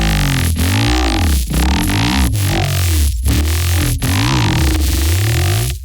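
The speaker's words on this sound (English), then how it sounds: "The first example is a growl bass" A growl bass synth processed through the IFEA spectral compressor plugin, a loud, thick, wobbling distorted drone with rhythmic dips and choppy, gated pulses, with bright artifacts sitting on top and no speech.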